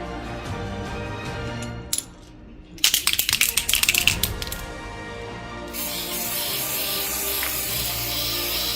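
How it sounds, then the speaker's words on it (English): A can of gold mist spray for a cake rattles with quick clicking shakes, then releases a steady, hissing spray mist that continues to the end. "I'm gonna go ahead and spray it with this gold mist"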